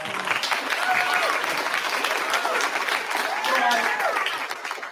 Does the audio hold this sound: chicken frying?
no